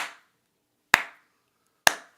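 Three sharp, isolated hand claps ring out about a second apart, each crisp with a brief decay, against silence.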